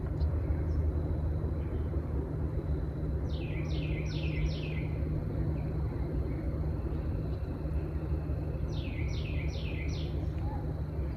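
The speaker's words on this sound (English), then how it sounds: "I'm really loving the birds chirping here." Outdoor birds at sunset give two short bursts of rapid, high chirps, each a quick descending run of notes, fairly faint over a steady low rumble of distant traffic or engine noise.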